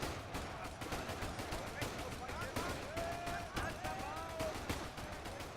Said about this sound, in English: the amount of times he's shooting sounds pretty cool